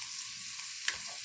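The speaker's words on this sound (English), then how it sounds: "I've already cut the chicken up, chicken breast, into little strips. And I'm gonna saute them." Strips of chicken breast sauteing in a hot pan, with a faint, steady sizzle and a couple of brief stirring clicks, and no talking.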